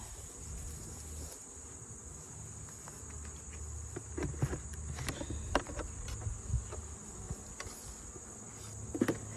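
Honey bees hum faintly and steadily around an opened hive during an inspection. Soft clicks and rustles from handling the frames sound nearby.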